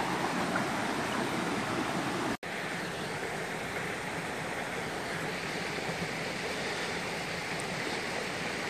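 A forest creek flows steadily on a bush walking circuit, giving a constant broad rushing wash with no voices.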